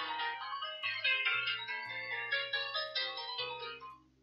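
A phone in the video game House Flipper rings with a bright, cheerful melodic ringtone, a looping synthesized tune over a steady bass line, clear and with no talk.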